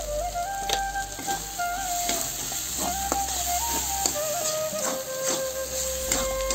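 Tomatoes and salt frying in a spiced masala base for a crab curry, a steady loud sizzle with scattered stirring scrapes throughout, no voices.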